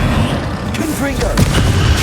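A Confringo blasting spell explodes in Hogwarts Legacy, a loud booming blast amid continuous game effects and music, with a spoken incantation over the top.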